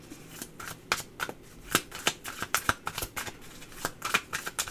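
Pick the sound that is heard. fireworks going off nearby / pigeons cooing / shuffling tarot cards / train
shuffling tarot cards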